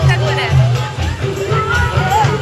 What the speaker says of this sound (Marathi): सर्वजण आलेत बापडा फुल गर्दी दिसते.